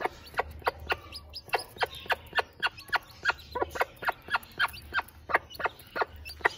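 Aseel hen clucking while feeding a newly hatched chick, a close, rapid series of sharp, fairly regular clucks continuing throughout with no talk.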